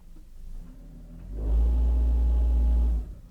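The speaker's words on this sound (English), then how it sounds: "so there we have a pretty big vibrational noise" A 2006 Honda Element with a bad transmission mount gives a loud, deep rumbling vibration as it moves forward, building and holding steady for about a second and a half before easing off, close up with no talking.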